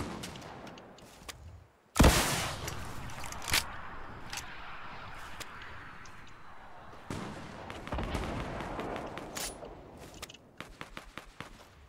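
Video game gunfire crackles in scattered bursts and single shots, starting with a sharp loud blast and then continuing in irregular volleys at moderate distance, with faint voices underneath.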